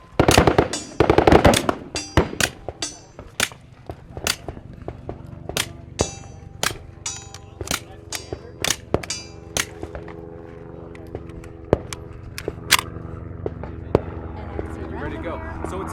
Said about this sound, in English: Why don't you fire 2 rounds through semi, and then we'll go on to burst.